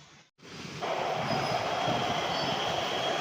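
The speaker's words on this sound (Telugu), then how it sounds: "రెండు రైళ్ళు వచ్చినాయి" After a brief drop-out, a loud continuous rail rumble of two trains passing in heavy rain in Hyderabad builds and holds, with a metallic wheel hiss over the steady roar of passing cars.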